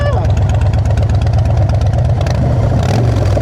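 A Harley-Davidson motorcycle engine idles with a deep, loud, throbbing pulse close by, rising briefly as it revs near the end, while people chat over it.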